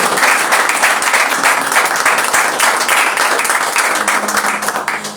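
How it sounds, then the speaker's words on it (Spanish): A church congregation claps loudly and steadily during a Spanish-language evening worship service, dense applause filling the whole stretch before tapering slightly at the end. "Dale fuerte ese aplauso a Dios si lo querés alabar en esta noche"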